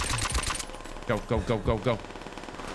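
STG44 assault rifle fire in Call of Duty: fast, loud bursts of automatic shots at the start, then a rhythmic run of four or five sharp bursts. A voice speaks briefly between them.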